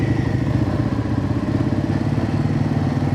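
A Royal Enfield Himalayan 450 motorcycle engine running with a misfire fault, a close, steady, uneven chugging idle with a rough, pulsing rhythm and no talk.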